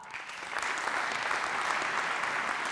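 Steady, dense applause from an audience at a keynote talk, many hands clapping at once at an even level for a few seconds.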